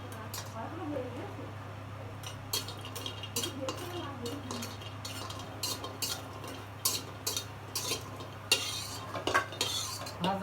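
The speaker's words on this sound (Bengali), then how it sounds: "তরকারিতে দেওয়ার জন্য কুমড়ো বড়ি ভেজে নেব।" Dried pumpkin lentil dumplings (kumro bori) fry in oil in a wok with a faint low sizzle under repeated metallic scraping and clinks of a spatula stirring against the pan, in quick irregular bursts.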